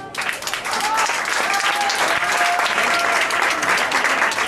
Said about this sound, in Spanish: la gran bailadora, para quien voy a pedir un aplauso, Mirna Fieck.